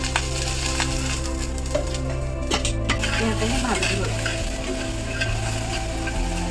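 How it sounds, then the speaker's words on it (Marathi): Okra pieces roasting in a little oil are stirred steadily in a pan, giving a loud, continuous sizzle with scraping and light clinks of the utensil against the pan throughout. "थोडंसं तेल घालून घेते भेंडी भाजण्यासाठी"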